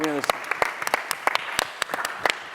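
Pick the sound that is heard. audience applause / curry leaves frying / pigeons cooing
audience applause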